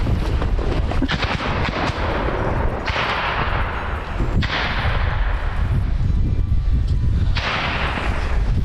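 Heavy combat blasts and gunfire in a frontline assault, with repeated loud booms and sharp cracks over a continuous dense roar, close and without voices.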